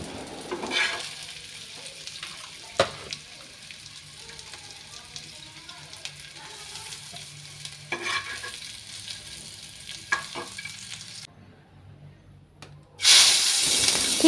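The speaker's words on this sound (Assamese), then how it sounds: "বাদাম আৰু পিঁয়াজখিনি অলপ ৰঙা হোৱালৈ ভাজি ল'লোঁ আৰু ভাজি মেলি উলিয়াই ল'লোঁ" Peanuts and onions frying in a pan until reddish, a low continuous sizzle with a few sharp stirring clatters, then a brief lull and a louder burst at the end.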